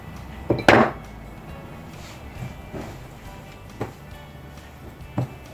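Banana bread dough is kneaded on a floured desk, giving a few dull thumps and knocks spaced a second or more apart over a low, steady room background.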